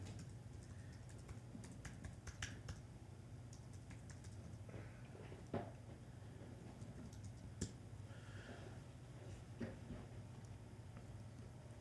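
A computer keyboard clatters as a web address is typed, quick uneven keystrokes in short bursts over a low steady hum, fairly quiet and close, with no talking.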